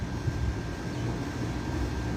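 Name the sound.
Pakistani fighter jets flying over during Saudi National Day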